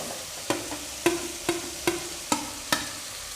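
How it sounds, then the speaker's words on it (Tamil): Ginger and garlic sautéing in a pan, heard as six sharp stirring scrapes about every half second over a low, steady frying sizzle. No voices. "இப்போ இஞ்சி பூண்டை போடுறோம். போட்டு அதோடு வதக்கிடணும்."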